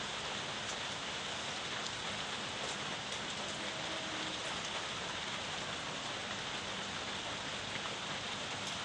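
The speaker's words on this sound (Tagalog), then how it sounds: "maulan ang hapon maulan" Steady afternoon rain falling without a break, a dense, even hiss of drops close by with no voices or thunder.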